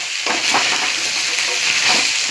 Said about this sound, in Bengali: এই দেখো, আমি এখানে মাছের মাথাগুলো ভেজে নিচ্ছি